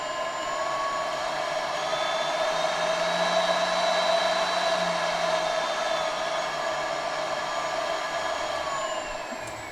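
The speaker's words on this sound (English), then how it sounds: "You can see the spindle motor is turning, and to vary the speed, you can speed it up and slow it down" CNC spindle motor running steadily with a high whine, a strong steady tone with overtones that rise slightly and then fall as the speed is varied, alone and without talk.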